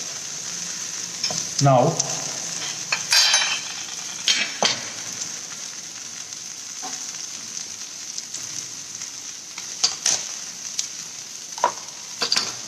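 Meat sears in a hot pan for a home recipe, with a constant bright sizzle, sharp crackling bursts and occasional stirring clatter, while a voice speaks a single brief word.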